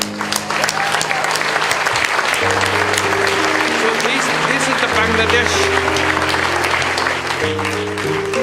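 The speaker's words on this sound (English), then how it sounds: "Let's give them a big applause." At a global initiative event, a large audience breaks into loud, sustained applause that fills the room, with music playing underneath and someone speaking over it near the start.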